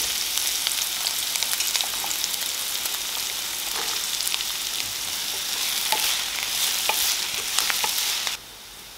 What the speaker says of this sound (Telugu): నూనె వేడైన తర్వాత 4 మీడియం సైజు ఉల్లిపాయలు చిన్న ముక్కల కింద కట్ చేసి వేస్తున్నాను